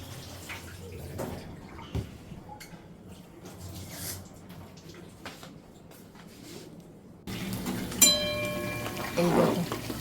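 Vegetables for khichuri, cauliflower and potato, being washed in water: soft splashing and trickling, then a fuller rush of running water with sloshing near the end, with a faint voice in the background.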